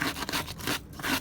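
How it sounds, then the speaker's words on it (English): Soft, steady rasping strokes of a drywall sanding sponge rubbed back and forth across a boot, close and continuous with slight rhythmic pulses. "when I give it a pass with this drywall sanding"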